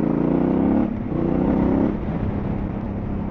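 A Honda XL750 motorcycle running with no exhaust silencer, a loud, steady low rumble heard from the rider's position, with the volume easing slightly partway through as the engine note shifts.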